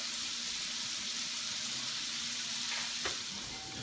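Shrimp seasoned with pepper and salt sizzle steadily in a hot pan for fettuccine Alfredo, a soft continuous hiss with a faint scrape near the end.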